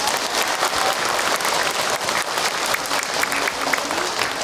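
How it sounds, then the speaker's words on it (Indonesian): A crowd at an Islamic lecture gives loud, sustained applause for a questioner's answer, dense steady clapping filling the space from start to finish with a few voices faintly underneath. "Tepuk tangan buat Ahilman dong untuk jawabannya"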